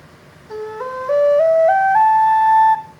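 A soft wooden Native American drone flute climbs a short scale of evenly stepped notes, each held briefly, clear and close with no other sounds.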